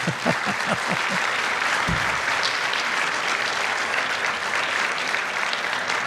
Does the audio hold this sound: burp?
no